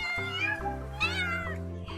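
A voice imitates a kitten's meow in a few drawn-out, rising and falling calls, close and clear, during a children's farm-animal naming game.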